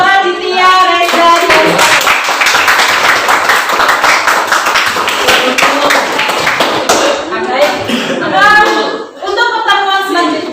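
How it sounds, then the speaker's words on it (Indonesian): A classroom claps together in a burst of applause lasting several seconds, with voices and cheering mixed in and continuing as the clapping fades. "Tepuk tangan untuk Raditya."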